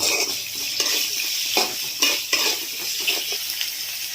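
Onions frying in a pan for an Odia homestyle tomato khatta while being stirred continuously, a steady close sizzle broken by repeated scraping strokes of a spoon against the pan.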